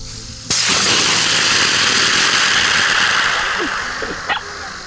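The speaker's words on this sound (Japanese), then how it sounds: "このまま空気一回抜いてみたいと思いますので。" A sudden loud burst of air rushing out of an inflatable product being deflated, starting abruptly and holding as a steady broad hiss for several seconds before tapering, with a couple of faint bumps near the end.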